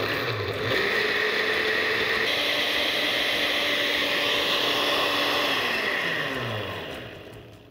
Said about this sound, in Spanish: Y a licuar hasta que esté totalmente hecho puré y totalmente emulsionado nuestra mezcla.